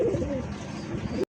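Satin pigeons, blackless light-coloured birds, coo in low rolling phrases that run steadily for just over a second, close by with a soft pigeon-loft murmur beneath, then stop abruptly.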